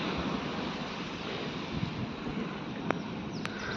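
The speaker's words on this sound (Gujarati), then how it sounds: "વરસાદ પાછો ચાલુ થયો છે" Steady broadband roar of wind and rain in a summer storm, fairly faint and continuous, with a couple of brief knocks near the end.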